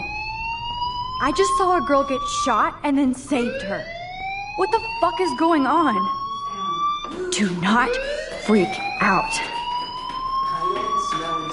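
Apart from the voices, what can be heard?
fire alarm ringing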